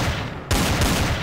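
Gunfire rings out in the video game Garry's Mod. A loud, dense burst of rapid shots begins abruptly after a moment of noisy lead-in and continues without a break.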